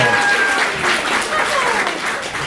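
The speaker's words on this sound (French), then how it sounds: "On l'applaudit bien fort" Audience at a quiz show in a small French venue applauding loudly for a correct answer, continuous crowded clapping with a voice speaking over it.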